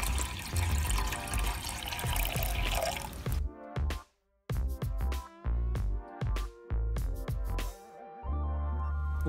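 Warm water is poured at a campfire for bread dough, starting as a full steady splashing pour, then breaking into separate gurgling splashes and drips with short gaps, close by.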